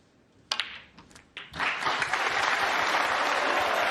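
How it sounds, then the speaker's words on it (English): A few scattered claps start, then swell into sustained arena crowd applause at a snooker championship that fills the space and holds steady. "There'll be applause for the century"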